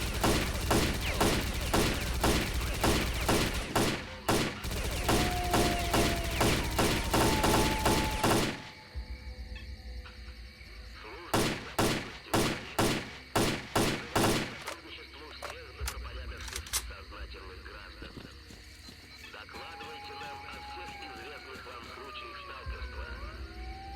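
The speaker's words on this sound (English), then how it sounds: "So now I have to sit there wasting another 45 rounds hitting nothing." Rapid bursts of automatic gunfire in S.T.A.L.K.E.R. Clear Sky, loud and close, firing in long volleys, then a pause before further sharp strings of shots amid ambient game noise and a faint voice.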